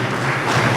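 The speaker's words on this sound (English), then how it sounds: "Please give her a round of applause." Audience at a whistle-blowing policy conference in Lagos, applauding in a brief, dense wash of clapping that fills the moment steadily, with no voices over it.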